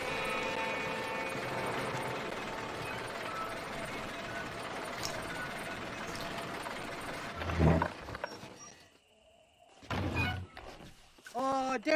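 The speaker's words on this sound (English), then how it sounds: "Load up and I'll engage the gears." Lift gears in Red Dead Redemption engage with a heavy mechanical clunk and ratcheting over a low, continuous ambient hum, followed by short clanks and a voice near the end.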